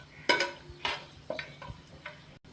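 Whole cinnamon, cloves, black pepper and cardamom sautéed in a pan for chicken korma, heard as several close, separate clinks and scrapes of a utensil against the pan over a faint, low sizzle, with no talking.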